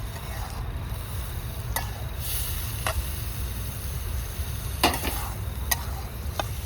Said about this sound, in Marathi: सगळं परतून झालंय त्यात टमाटर टाकून घ्यायचे